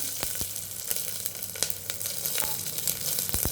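Cumin seeds, dried red chilies and garlic sizzle in hot oil for an arai keerai dish, a loud, steady crackle with sharp spitting pops scattered throughout.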